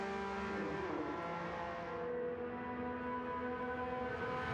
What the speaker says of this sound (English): Just listen to that engine on the apex